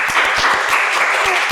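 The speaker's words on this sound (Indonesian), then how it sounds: "Tepuk tangan dulu untuk Mbak Uli." Close, loud audience applause during a talk about building a business, a brief dense burst of clapping with a few sharper individual claps.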